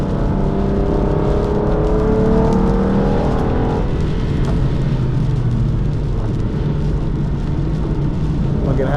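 An Aston Martin DB9 on a race circuit, its engine note droning loud and close with rising and falling pitch as it pulls down a straight, steady throughout with wind and road rush underneath.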